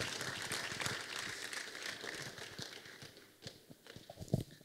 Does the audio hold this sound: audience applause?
yes